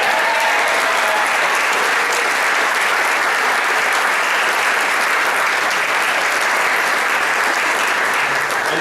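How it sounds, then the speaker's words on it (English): An audience at a gymnastics celebration brunch gives a round of applause, loud, dense and unbroken clapping from a roomful of people sustained throughout. "So let's hear a round of applause"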